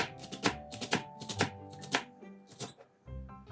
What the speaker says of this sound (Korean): 대파 6대를 잘게 썰어주세요